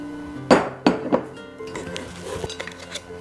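Le Creuset pots from a full set being unboxed knock and clink together: three sharp, loud metallic hits early on, followed by lighter scattered clinks and handling clatter, with no one talking.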